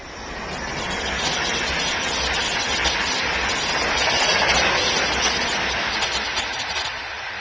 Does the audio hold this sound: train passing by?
yes